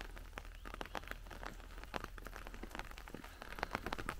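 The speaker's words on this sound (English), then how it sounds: "This is more than an inch and a half soft rain." Soft, steady rain falls on clay soil, with scattered close raindrop taps and patters over a gentle wash of drizzle, and nothing else heard.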